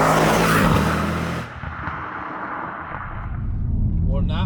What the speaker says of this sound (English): Still a fantastic sounding V8, isn't it?